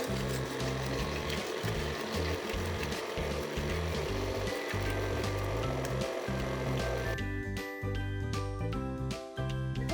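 Electric mixer running on low speed, beating eggs one at a time into vanilla cake batter, a steady continuous mechanical whir with a slight change in tone near the end.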